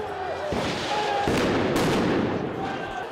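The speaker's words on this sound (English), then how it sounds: "A serious volley of fireworks have just been thrown into the police." Fireworks are thrown at police during a street protest in France, a loud burst of crackling explosions over a noisy crowd, close and chaotic.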